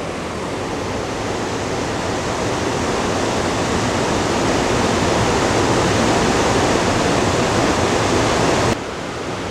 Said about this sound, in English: I like the way the water finds its way around these rocks.